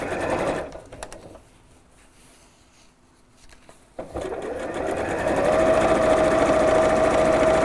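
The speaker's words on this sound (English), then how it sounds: "So let's line up that with the edge of that fabric again. And sew down the middle." A sewing machine stitches a fabric lining down the middle, running in a loud close burst, pausing briefly into near quiet, then resuming with a steady, continuous whirring hum.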